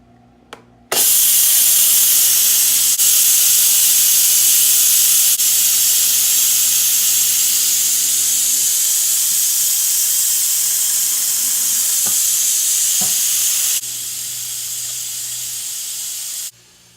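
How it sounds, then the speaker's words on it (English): A loud, continuous steam hiss vents from an Instant Pot after cooking chicken noodle soup, starting abruptly, holding steady for many seconds, then dropping a little in strength before cutting off. "Well, it's still steaming"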